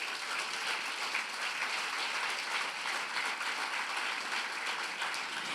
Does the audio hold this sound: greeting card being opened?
no